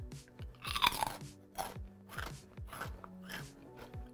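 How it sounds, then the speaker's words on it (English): Someone bites and chews Coca-Cola flavored potato chips, with one sharp close crunch followed by several softer, rhythmic chewing crunches. "Did you hear that crunch?"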